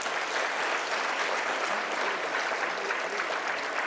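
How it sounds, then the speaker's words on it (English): A closing-ceremony conference crowd gives the organizing team a steady round of applause, a dense, even wash of clapping with no individual claps standing out. "let's give a big applause to the team"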